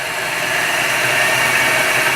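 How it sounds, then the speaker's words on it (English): Steady, loud mechanical whine and hum of an Eldorado M75-1041 single spindle gun drill running a drilling cycle, continuous and unbroken with no talking. "Spindle's on, and we're drilling."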